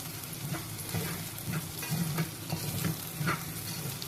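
Lentils and rice sauté in a pan for a Marathi lima bean rice dish, a steady sizzle broken by regular scraping stirs roughly every half second, close and alone.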